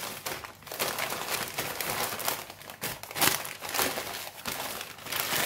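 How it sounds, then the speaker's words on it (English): Old newspaper being crumpled and wrapped around vegetables, with continuous close, crackling paper rustle and crinkling in uneven bursts and no talk. "wrap it in a old newspaper, just like that. Completely wrap it."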